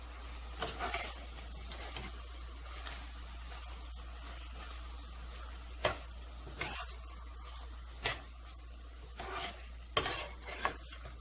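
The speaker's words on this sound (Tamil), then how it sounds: "இத ஆட் பண்ணிட்டு ஒரு தடவை நல்லா மிக்ஸ் பண்ணி விடுங்க" A spoon works ground masala into vegetables sautéing in a pan for bisibelebath, giving a faint background sizzle broken by sharp, irregular scrapes and knocks of metal against the pan.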